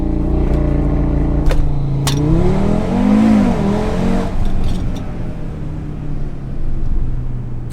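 An Audi RS3 in ESC Sport mode launches hard, its engine note rising in pitch through the revs and then dropping back as it settles into a steady drone, heard from inside the car with no talking.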